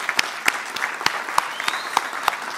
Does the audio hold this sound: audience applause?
yes